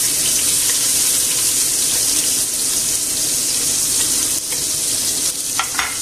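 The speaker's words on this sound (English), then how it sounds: "in this same pan, I'm just going to add a bit more oil, olive oil, a couple of tablespoons, and I'm going to chuck in about 1/2 onion." Half an onion frying in a couple of tablespoons of olive oil in a pan, a steady close sizzle and hiss that runs the whole time with a few light scrapes and clinks near the end.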